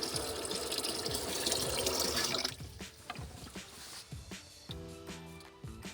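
Water gushes strongly from kitchen faucet supply lines into a bucket, a loud steady rush for a couple of seconds before cutting off, leaving quieter drips and handling sounds.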